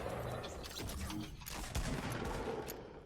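Shotgun fire in a video game, several booming shots with rumbling low end spread across a few seconds under continuous game noise.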